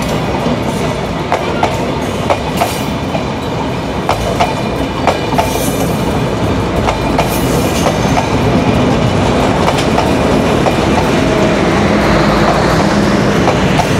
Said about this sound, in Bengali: ওই সে কোন ট্রেন? সুন্দরবন আসতেছে, ওইটা না?